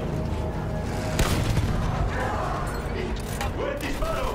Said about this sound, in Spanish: ¡Si tiene a tiro ese cañón de campo, dispare!